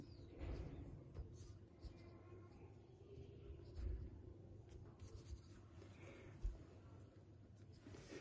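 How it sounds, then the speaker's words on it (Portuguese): A deck of playing cards is flipped, then cut and completed several times during a card magic trick. Soft, papery sliding and shuffling scrapes come close up, with a few dull bumps. "vou virar o baralho desse jeito e vou cortar e completar"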